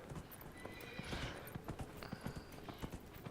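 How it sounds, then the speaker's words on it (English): Horse hooves clip-clop in a steady galloping rhythm while a rider travels in the Dragon Age Inquisition video game, with a brief whinny near the middle, all at moderate loudness with no talking. "I like riding the horse, yo."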